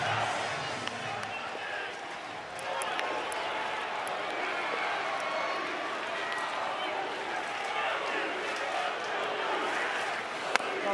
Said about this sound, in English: You're feeling the power of the Sooner crowd here as this game wraps up.